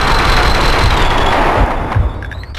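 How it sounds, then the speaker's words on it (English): Gunfire in the video game Max Payne 2 comes as a dense, continuous loud burst of shots and booms that fills the clip and tapers toward the end, with no speech. "Someone must have heard the gunfire."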